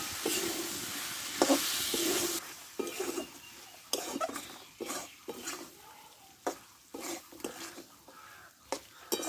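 Young jackfruit sizzles gently over low heat in a pan, with repeated scraping stirs and clanks of a utensil breaking up the soft frying hiss at close range.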